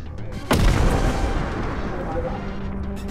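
Bomb thrown by a monster in the co-op horror game Content Warning explodes with one sudden loud boom that rolls off into a rumbling tail, with a player's voice heard around it.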